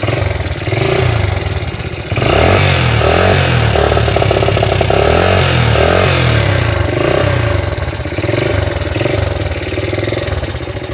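A 44-year-old motorcycle engine runs and warms up, a loud close idle with steady thumping pulses and slight rises in revs, heard without talk.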